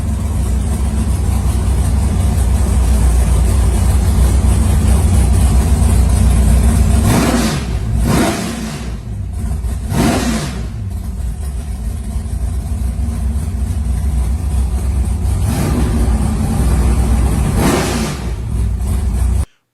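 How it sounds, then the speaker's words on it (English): A 1979 Chevrolet Camaro pro street car with an 800-horsepower 505 CI big block Chevy and a Zex plate kit rumbles loudly and close, with a few sharp rev bursts rising over its heavy idle. "Power comes from an Andy Jensen-built 505 CI big block Chevy pushing 800 horsepower on motor alone"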